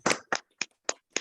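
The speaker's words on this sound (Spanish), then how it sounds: "Un gran aplauso para nuestro charlista." A few distinct claps for a speaker at a talk, five sharp isolated hand claps spaced evenly and close by, with silence between them rather than full crowd applause.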